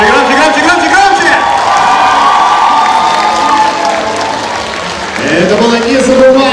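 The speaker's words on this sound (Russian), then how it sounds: "обязательно подарите им самые громкие овации!" Audience at a cosplay solo runway show in 2018 roars with sustained applause, cheering and shouts, loud and close throughout, with a surge of whoops near the end.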